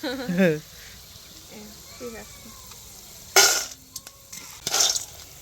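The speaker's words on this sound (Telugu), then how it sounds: "చూసారా పటపట మంది ఆడే సౌండ్ వస్తుంది అలా రావాలి" Potato pieces frying in a pan give a bright crackling sizzle that swells in bursts, with voices and brief whistling tones heard over it.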